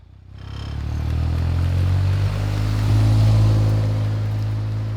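A Caterham Seven 160 sports car drives on the road, its small engine giving a loud, steady low drone that swells slightly, with a brief shift, alone and close throughout.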